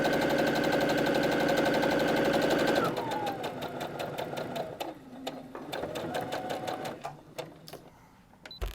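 A sewing machine stitches a quilt seam for a charm pack pattern, running steadily and loudly at first, then breaking into slower, uneven bursts of stitching with clicks and pauses.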